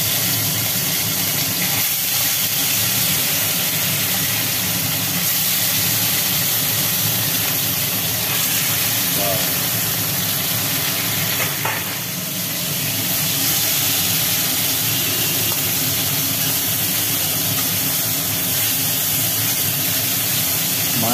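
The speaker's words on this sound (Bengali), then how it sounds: "এবার মাছগুলো একটা একটা করে ভাজা হবে।" Fish pieces frying in hot mustard oil in a wok, a loud, dense, continuous hiss and roar of sputtering oil held steady throughout with little variation.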